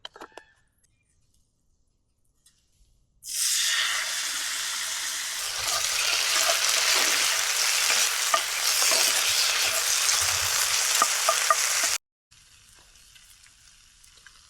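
Potatoes drop into a hot pan and fry with a loud, sudden burst of sizzling that holds steady for several seconds with small pops and crackles, then cuts to a quieter background hiss.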